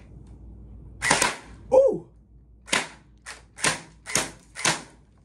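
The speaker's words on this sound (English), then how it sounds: "This is definitely my best shooting performing Gel Blaster." An MP5 gel blaster fires six sharp, punchy shots, the first two close together and the rest in a quick, fairly even run, with a brief exclamation from a man between them.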